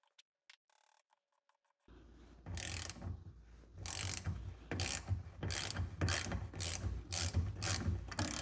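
A ratchet clicks through repeated strokes turning a bolt on a Nissan 15 hp outboard motor, crisp close-up bursts of pawl clatter after a few faint opening taps.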